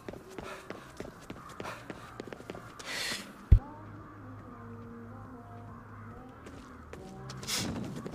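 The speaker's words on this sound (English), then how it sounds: "I hear more crows." Crows caw in Ghostwire: Tokyo, harsh calls rising over ambient game sound along with footsteps and a sharp thud, with no talking.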